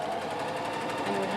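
A sewing machine runs a straight basting stitch down the back seam of a maxi dress, a fast, even mechanical whir with a rapid needle rhythm. It sounds close and continuous, with no voices.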